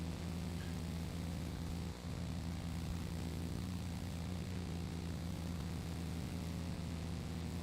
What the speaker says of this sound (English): It's an Embraer coming in from Medford.